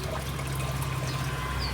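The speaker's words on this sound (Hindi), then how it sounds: "यहाँ पे कूलर में पानी भर देती हूँ मैं।" Water pouring steadily into an air cooler's tank, a continuous close trickling splash with no talk over it.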